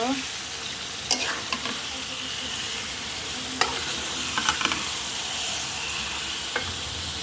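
Country duck meat is stirred and fried in spice masala, a steady close sizzle broken by occasional sharp scrapes and taps of a spatula against the pan, with no talk.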